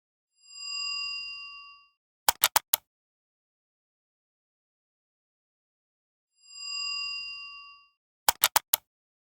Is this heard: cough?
no